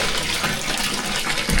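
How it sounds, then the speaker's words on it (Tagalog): Water pours into a container to fill it, a close, steady splashing rush that holds throughout and swells slightly at the end, with no speech over it. "Punuin din muna natin yung tubig mga maninay."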